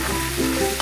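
Turmeric and spices hitting hot oil with softened onion and tomato in a pan, giving a loud, close, continuous sizzle with a faint frying crackle throughout.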